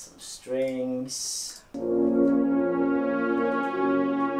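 A brief vocal-like passage opens, then sustained strings from a song arrangement swell in under piano, guitar and vocal, holding a smooth, full chord steadily to the end.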